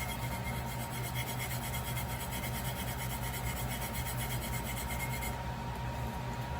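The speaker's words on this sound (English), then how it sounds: "So now, literally just take your fingers and rub it." Fingers rubbing the surface of a tack-method coated tumbler, giving a steady, continuous dry rubbing friction that stays close and even throughout, with no talking.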